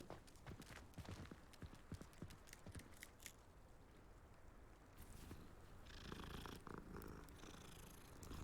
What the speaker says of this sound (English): Someone's cat.